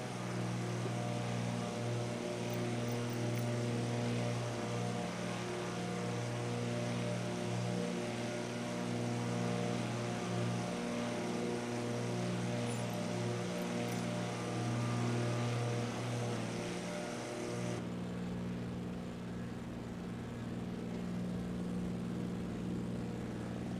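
Propeller aircraft engines droning in a flight simulator game, a steady, loud buzzing hum with strong tonal layers that holds throughout, then shifts to a slightly thinner tone near the end, with no talking.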